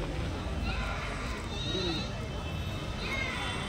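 Goats bleat at a weekly goat market in Kadiri, with a few calls rising over a dense, steady crowd murmur and nearby talk throughout.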